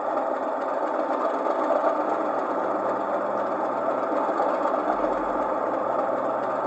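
A Class 37 diesel compressor effect plays from a DCC sound decoder in an O gauge Heljan model locomotive, a steady, loud mechanical chugging hum that runs unbroken throughout.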